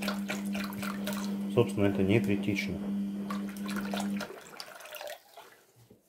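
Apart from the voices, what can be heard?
tap water pouring for artificial stone mix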